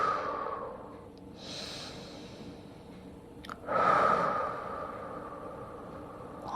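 Slow, relaxed breathing during a prenatal yoga session for easing the lower back: soft, close inhales and exhales in an unhurried rhythm, with one fuller, louder breath near the middle, and no talking.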